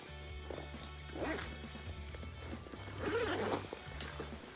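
A zipper on a swim bag being pulled in a few quick rasping strokes, up close, with a faint low hum underneath and no talking.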